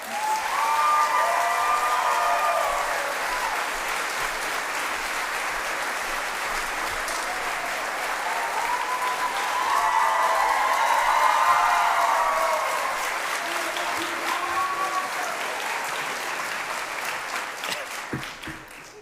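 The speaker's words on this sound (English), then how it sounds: "Now let's hear a round of applause for the man who traveled all the way from Colorado to speak to us today, Mr. Toms." Sustained applause from a convocation audience greeting a speaker, a dense, steady clapping of a large crowd lasting nearly twenty seconds, swelling slightly midway before tapering off.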